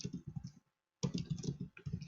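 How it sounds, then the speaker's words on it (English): Quick, irregular clicking of fingers typing on a computer keyboard, close and steady, with a brief pause in the middle before the keystrokes resume. "I'm going to type,"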